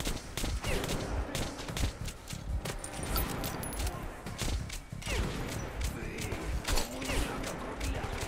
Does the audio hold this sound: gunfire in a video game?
yes